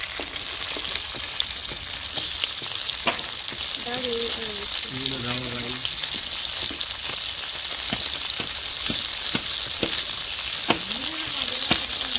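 Fish pieces fry in hot oil in a pond-fish curry preparation, a loud, dense, unbroken sizzle and crackle close up, with a few brief tonal sounds partway through and occasional clicks.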